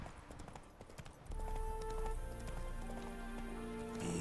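Roach the horse trotting in Witcher 3, quick clip-clopping hooves with a rising musical score and rumbling game ambience building beneath, moderately close with no talk.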